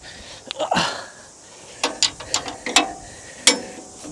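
A ratchet wrench loosens the bottom nuts on a Turbosawmill, giving short bursts of quick metallic clicking, close and fairly loud, with brief pauses between strokes.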